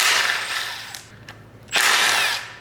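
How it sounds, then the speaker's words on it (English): Power tool loosening the big cam gear bolts on a BMW M52 engine, two bursts of whirring ratchet noise separated by a short quiet gap, close and fairly loud with no talk. "To take this cam gear off, you're gonna have to remove these 2 big bolts"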